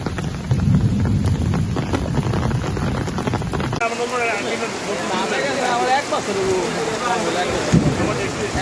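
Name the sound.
heavy rain during a storm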